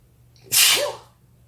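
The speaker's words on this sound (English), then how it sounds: "Oh, excuse me, I have to sneeze." A single sharp sneeze, close and loud, with a quick breathy burst that fades out in under a second.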